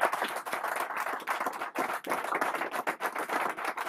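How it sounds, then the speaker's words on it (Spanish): A small audience at an artist showcase claps hands in quick, dense applause, close and lively, with uneven bursts for a few seconds. "un fuerte aplauso."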